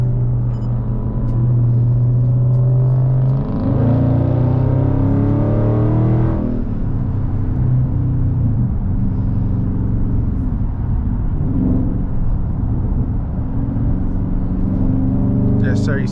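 Dodge Charger Scat Pack Widebody cars driving in evening rush-hour traffic, a heavy low engine rumble with droning exhaust tones rising and falling through the drive, with people talking over it.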